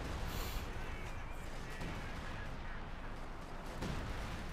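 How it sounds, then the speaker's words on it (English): An artillery strike called in by a Major in Company of Heroes 2, a Wehrmacht versus US Forces match, rumbling as dense overlapping booms and blasts, fairly faint and continuous, with a brief sharper crack near the start and another late. "He's calling it artillery with the Major on this."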